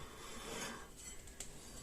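Brake pad rubbing against the brake disc on a Citroën ZX during a brake repair, a soft continuous rasping scrape close by, fairly faint, with a brief sharper click near the end.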